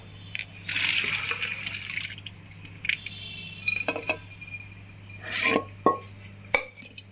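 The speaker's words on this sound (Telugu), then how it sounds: "ఇప్పుడు ఈ వాటర్ ఉంది కదా, ఈ వాటర్ ఇలా జల్లెల్లో వంపేసుకుంటాము." Boiled chickpea water pours out of a pot through a kitchen sieve in two bursts of splashing. Metal and dish clinks come before and between them in a quiet kitchen.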